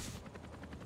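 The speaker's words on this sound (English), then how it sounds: "Yeah, we have to get this helicopter here." Helicopter in the zombie shooter Back 4 Blood, a brief, faint rhythmic rotor chop pulsing steadily for under a second.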